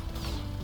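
Vacuum blast weapon firing in the video game Copy Kitty, a dense continuous mechanical grinding whoosh with a rising whine, loud and steady for a brief burst with no talk.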